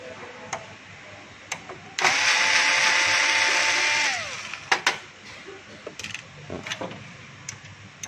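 A power screwdriver runs steadily for about two seconds, backing out an outer screw on the ADF document-feeder cover of a Toshiba copier. A whine drops in pitch as it stops, then a few light clicks and handling taps of the plastic cover follow.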